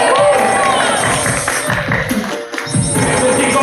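Game show crowd cheering on players during a live science-themed gaming event, a dense, loud roar of voices and shouts that runs throughout, with a brief dip near the end and speech mixed in.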